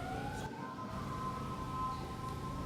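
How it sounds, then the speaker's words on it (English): Emergency siren wailing outside during an indoor literary talk, steady rising and falling tones at moderate distance, continuous across the whole clip with no speech over it. "Can you all hear me over the siren?"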